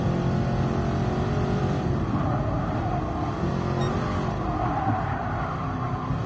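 A De Tomaso Pantera's engine drones loudly and continuously in Gran Turismo Sport, with a sustained, rising and falling roar like a race car being driven hard.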